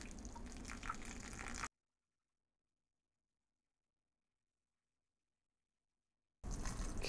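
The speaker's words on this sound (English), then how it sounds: "I'm just adding the nutrient solution and then I'll just let it, you know, do its thing." Liquid nutrient solution pours and splashes onto the soil of an indoor houseplant in a wet, continuous gush, heard in two short bursts separated by a long stretch of silence.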